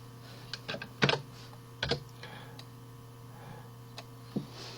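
Sparse, soft keystrokes tap on a computer keyboard, a few scattered clicks over a steady low electrical hum.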